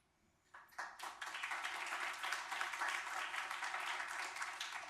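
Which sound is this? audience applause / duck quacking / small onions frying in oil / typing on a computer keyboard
audience applause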